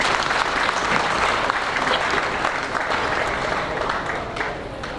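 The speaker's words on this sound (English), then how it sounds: "Another round of applause." Sustained audience applause fills the hall at the official opening of a university innovation hub during a research week event, steady and dense throughout with no clear speech over it.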